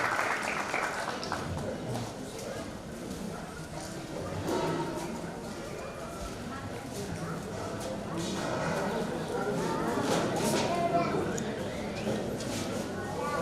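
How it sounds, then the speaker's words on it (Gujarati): Audience applause at a community get-together, a sustained, dense wash of clapping that holds steady for the whole stretch at moderate loudness. "ખૂબ તાળી વધાવો."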